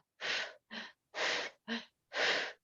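Heavy breathing during a recovery-breathing exercise: five loud, close breaths alternating between long huffs and shorter gasping intakes, with no other sound around them.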